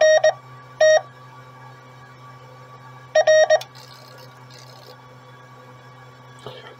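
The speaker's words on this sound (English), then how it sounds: "you could hear the relays chattering as the ATU tuned" Relays in an ATU-100 automatic antenna tuner chattering while it tunes: short bursts of rapid clicking and tone-like blips at the start and around the middle, over a quiet steady hum.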